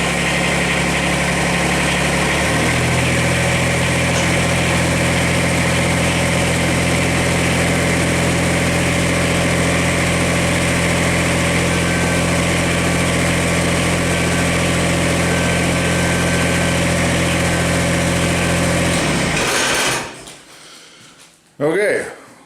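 A Kubota BX-24 compact tractor engine runs at a steady, loud idle for about twenty seconds, with a shift in pitch early on, then cuts off abruptly, leaving near silence and a brief final knock.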